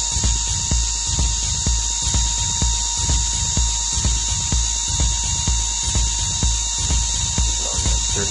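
A magnetic motor spins steadily at about 3500 RPM, giving a constant high whine with a fast, regular rhythmic ticking beneath it. It runs close and alone at an even level, with no talking.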